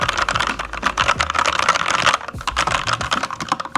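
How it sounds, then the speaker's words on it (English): Fast, steady typing on a clicky budget mechanical keyboard with 104 keys, close and loud, a dense run of crisp key clacks with no talking. "Very clicky keyboard."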